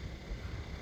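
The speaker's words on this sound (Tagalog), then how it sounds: "Ang hangin talaga." Strong, cold island wind near the sea buffets a microphone outdoors, producing a brief, low, steady roar of rumbling wind noise with no voices.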